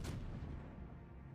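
A single deep boom of battleship main guns firing in World of Warships, with a heavy low rumble that decays over about a second, loud and alone without talk.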